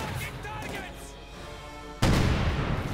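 Multiple rocket launcher firing in Company of Heroes 2, a German rocket barrage booming loudly with a sharp blast near the end, over continuous battlefield rumble and a commentator talking.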